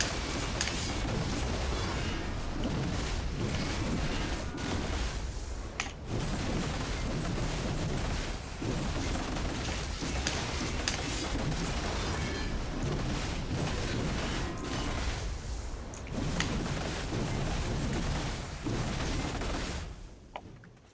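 Awakening Warrior combo attacks in Black Desert Online, looped as an infinite PvE combo, produce a continuous barrage of heavy booming impacts and blasts, loud and dense throughout with brief dips, and no voices.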